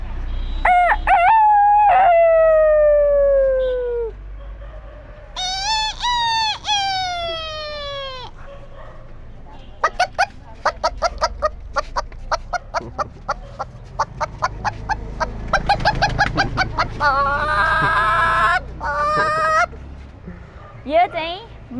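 A person mimics a hen calling while searching for food for her chicks: a few long, falling, crow-like calls come first, then a run of quick, close clucks and short squawks.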